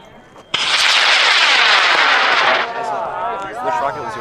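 A high power rocket motor ignites with a sudden loud roar that holds steady for about two seconds, then thins into a fading rumble. Crowd voices are heard under it at a spring rocket launch event.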